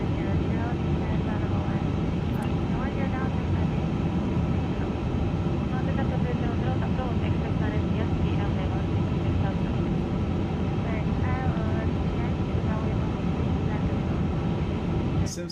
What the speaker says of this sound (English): Seems like we are taxiing all the way to the other part of the airport.